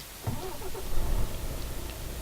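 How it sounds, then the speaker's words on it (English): A truck engine in the Euro Truck Simulator 2 driving game cranks and catches, then settles into a low, rumbling idle over a couple of seconds. "That automatically turned the engine on."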